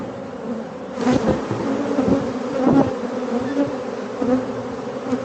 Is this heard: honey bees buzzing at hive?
yes